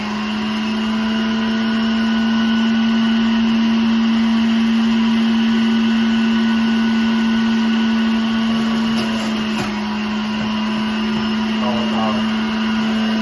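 An electric juicer runs steadily at close range, its motor giving a loud, constant whine with a strong hum as vegetables such as onion and cauliflower are pushed through, and a brief grinding bump partway through.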